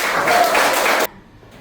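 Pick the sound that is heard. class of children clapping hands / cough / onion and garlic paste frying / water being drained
class of children clapping hands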